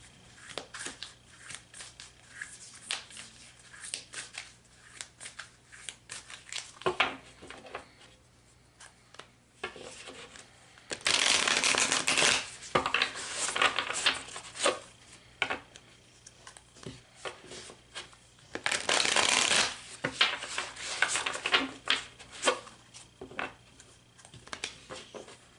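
Oracle cards are shuffled by hand in two longer rustling, riffling bursts, with quieter soft handling and light taps between them, close and fairly faint in a quiet room, with no talking.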